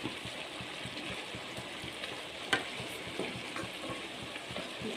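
Naga sukka chicken curry is stirred in a pot as it releases its water, a faint, steady scraping and bubbling texture broken by one sharp clink midway.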